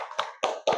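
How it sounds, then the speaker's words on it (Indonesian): A classroom of students claps in three brief separated bursts, close and sharp, with no talking. "Tepuk tangan untuk kita semuanya."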